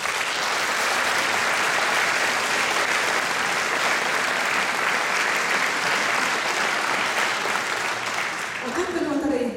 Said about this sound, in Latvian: Daudz laimes dzimšanas dienā un aplausi!